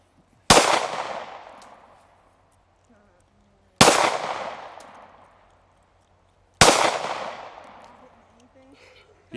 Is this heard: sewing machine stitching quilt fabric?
no